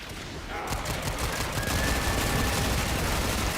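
Rapid machine pistol fire from Warframe, a dense continuous burst of shots running loud and steady throughout, with no talk over it.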